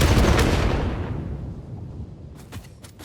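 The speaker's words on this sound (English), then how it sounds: "So I'm going to need to bomb the heck out of it." A heavy bomb explosion at a crash site in the game Satisfactory: a loud booming blast that rumbles and slowly decays over a few seconds, followed by a couple of faint sharp cracks near the end.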